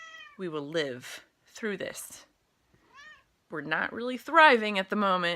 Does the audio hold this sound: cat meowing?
yes